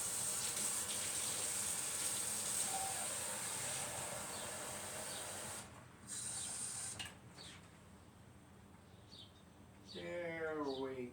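Hot water streams and hisses as it is poured into a baking dish of rice for baked chicken and rice, a continuous close pour with brief pauses, followed by a short bubbling glug near the end.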